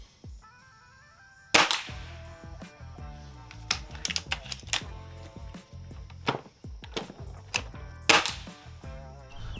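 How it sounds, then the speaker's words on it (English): A $300 break-barrel air gun fires pellets outdoors, with two sharp, loud cracks several seconds apart, each followed by the clicks and clunks of handling the gun between shots, all close by. "So we're gonna go ahead and take a few shots"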